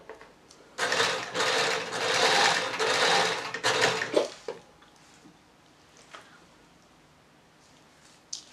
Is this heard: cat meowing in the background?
no